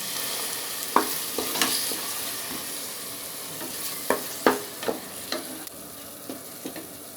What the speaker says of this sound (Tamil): அந்த தக்காளி அரைச்சதை ஊற்றிக்கலாம்.